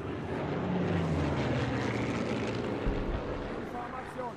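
A propeller airplane drones overhead in the World War II shooter game Sniper Elite 3, a loud, sustained roar that slowly swells and fades.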